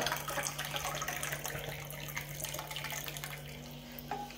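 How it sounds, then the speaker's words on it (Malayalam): Hot water pours steadily over tamarind in a bowl, a continuous soft splashing and trickling stream lasting a few seconds, close and fairly quiet, with no voices. "അപ്പം ഈ പുളി ഒന്ന് അലത്ത് കുതിർന്ന് കിട്ടാൻ വേണ്ടി നമുക്ക് കുറച്ച് ചൂടുവെള്ളം ഒഴിച്ചു വെക്കാം"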